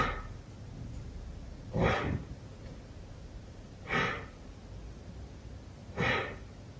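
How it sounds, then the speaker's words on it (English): Three short, forceful belly exhales during a yoga breathing practice, evenly spaced about two seconds apart, close and clear against a quiet room. "now short little exhales from the belly button"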